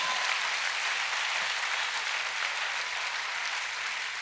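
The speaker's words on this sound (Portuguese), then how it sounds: "Então aplauda ao Senhor" A congregation claps in praise at a Portuguese-language church service, a steady unbroken wash of hands that holds evenly throughout, with no voices rising above it.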